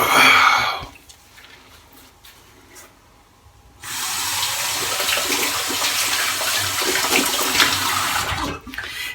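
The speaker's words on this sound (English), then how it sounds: "Let me rinse off." Running water from a tap rinsing off shaving soap, a steady close splashing rush that starts abruptly after a brief quieter stretch and cuts off near the end.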